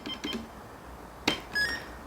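Keypad beeps from a KOCES KTC-K501 card payment terminal while entering an amount, a few short, clean electronic tones spaced out over a quiet room.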